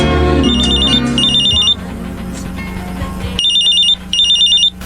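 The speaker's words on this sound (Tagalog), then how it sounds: "bigla na lamang ako nagising nang mag-ring ang cellphone ko" A cellphone rings loudly and close by in repeated electronic warbling bursts, with pauses between them.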